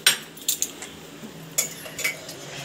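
A metal spoon stirs salt into a cup of tea, giving a few bright clinks and taps against the cup with short pauses between, close and fairly quiet.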